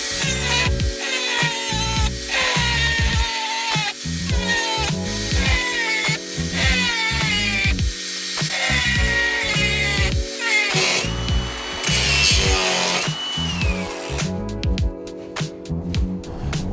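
A power tool grinds rusty go-kart mounts, loud and close, with a repetitive pulsing rhythm and shifting whining tones across a fast-paced run of work.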